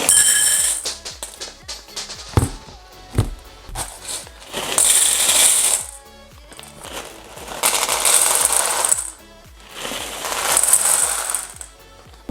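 Skittles candies rattle and clatter in a small bowl as they are stirred, coming in several bursts of crisp, close clicking separated by brief pauses.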